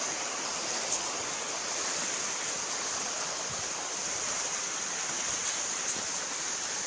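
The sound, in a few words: waterfall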